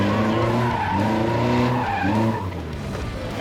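A car skids through a quarter turn on a gymkhana course, loud tire squeal and revving engine sustained for a few seconds up close, with no talking.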